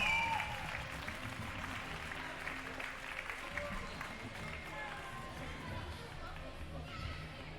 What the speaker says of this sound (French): un tonnerre d'applaudissements pour cette catégorie riders amatrices